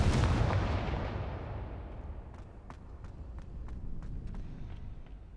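A Confringo fire spell in Hogwarts Legacy bursts with a loud, booming blast that rolls off and fades, followed by faint scattered crackles and light impact ticks.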